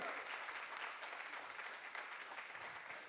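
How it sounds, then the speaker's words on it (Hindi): Enthusiastic clapping from an audience at a network marketing training event, honouring the managing director: a continuous wash of applause, quiet and somewhat distant, with no voices over it. "हमारे एमडी मिसेज लता मैम के लिए एक बार जोरदार ताली होनी चाहिए"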